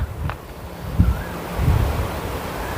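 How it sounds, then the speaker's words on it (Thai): Strong wind gusts across a mountain campsite at Phu Ra Roeng, Wang Nam Khiao, roaring and buffeting the microphone in loud, continuous rushes with a few sharper low thumps. "แต่ตอนนี้คือลมแรงมาก ลมแรงจริง ๆ ดูอ่ะ"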